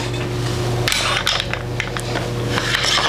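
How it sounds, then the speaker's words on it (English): A rifle bolt with its recoil spring sliding out of the back of a PMM APC308 PRO chassis rifle during disassembly, a series of close metallic clicks and scrapes over a steady low hum, with no talking. "and bolt comes out of the back."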